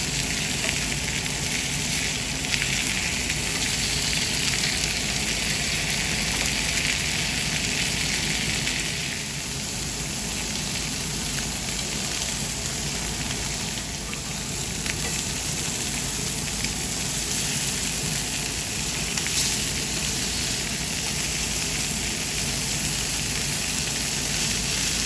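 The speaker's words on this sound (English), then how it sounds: "Pan is just starting to smoke. I'll add a little oil, and let's go ahead and put in our meat. We want to get a nice sear on all areas." Beef searing in oil in a smoking-hot pan for beef stroganoff, giving a loud, steady, close sizzle that runs unbroken for the whole stretch with no talking.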